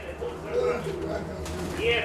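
Close pigeon coos, soft rolling calls repeated a few times, with a person speaking over them.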